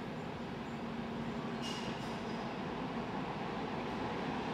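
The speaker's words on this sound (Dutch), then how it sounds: "Daar komt weer een 120 binnen met een Intercity aan de haak." A class 120 electric locomotive hauling an Intercity train into a station, a faint, steady rolling rumble with a short high squeal partway through.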